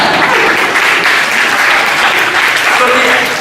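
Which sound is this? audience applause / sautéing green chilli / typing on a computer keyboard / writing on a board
audience applause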